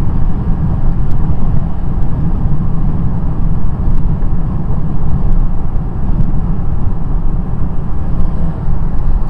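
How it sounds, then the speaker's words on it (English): Steady road and engine noise from a car driving through the Minnesota countryside on a cloudy day, a continuous broadband rumble at constant loudness with no talking. "Lots and lots of traffic today."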